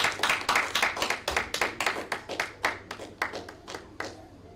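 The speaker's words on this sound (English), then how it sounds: "Please, let's clap for him" Audience clapping at a micro-credit association annual general meeting in Ghana: a modest crowd in a hall gives a few seconds of steady, moderately loud claps with distinct individual hand strikes, fading slightly at the end.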